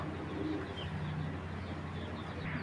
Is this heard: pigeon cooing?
yes